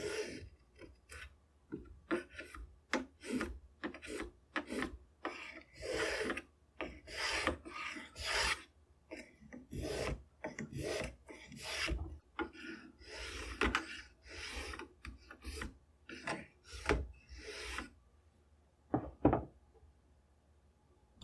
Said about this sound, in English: Then I can use the spoke shave, just in line with the rivets, for a very light finishing pass.